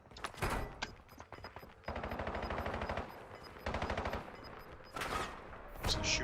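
Call of Duty Warzone gunfire rattles in rapid automatic bursts, several strings of shots separated by brief pauses, fairly quiet but crisp throughout.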